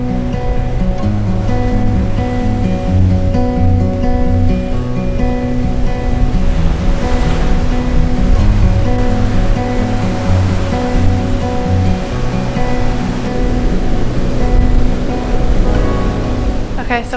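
Ocean surf at Dos Playa beach in Arikok National Park, Aruba, roars steadily as waves break nearby, a loud continuous wash with low droning underneath throughout.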